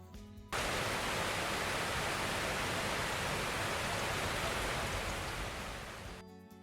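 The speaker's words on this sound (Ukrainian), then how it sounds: "біжить струмок" A forest stream rushes continuously in spring, a steady broad hiss of running water that starts abruptly and eases slightly at the end.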